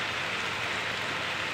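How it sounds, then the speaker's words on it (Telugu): Heavy, continuous rain pouring down on a rainy day after three days of downpour, an even broadband hiss with no voices. "ఫుల్ వర్షం కొడుతుంది ఫ్రెండ్స్."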